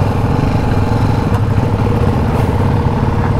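A Ducati Hypermotard 698 Mono RVE single-cylinder engine runs steadily up close, a loud low rumbling idle with a slightly uneven, throbbing beat throughout.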